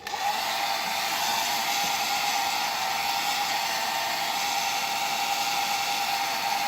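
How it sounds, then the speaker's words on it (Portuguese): Airbrush spraying paint with a steady, loud hiss of compressed air, spattering unevenly through the trigger; close and continuous with no talking. "esse aerógrafo tá fazendo splatten"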